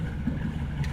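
A boat motor idling on a small lake while out jigging for walleye, a steady low rumbling drone that holds even and continuous throughout, with no voices.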